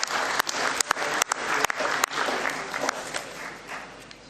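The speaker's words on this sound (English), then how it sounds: "can we clap hands once more for Kamanga and the Finance Committee?" Scattered clapping from a group, with a few sharp individual claps standing out, thinning gradually toward the end.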